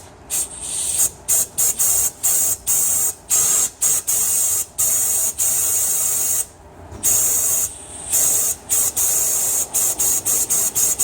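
Compressed air blasts into a vehicle differential housing to clear debris during an oil change, loud close hissing bursts in many short and longer pulses separated by brief gaps, alone.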